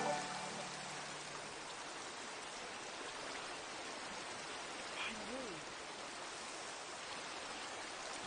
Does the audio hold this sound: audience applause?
no